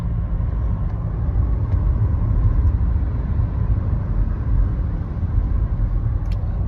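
A car travels slowly along a road, giving a steady, loud low rumble of engine and tyre noise throughout with no talk over it.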